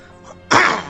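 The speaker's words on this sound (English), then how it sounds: "Bit of a cough today." A single sharp cough from a man, short and close, bursting out after a quiet moment and trailing off quickly.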